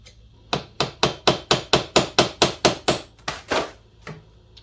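Steady hammer blows, about a dozen sharp strikes in an even rhythm, close and loud, with the last few coming slower and more spaced out.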